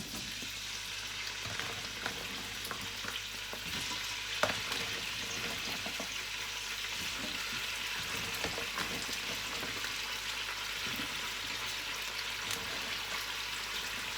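Green peppers frying in vegetable oil with garlic for a pepper pickle, giving a steady, close, continuous sizzle and crackle with no voices.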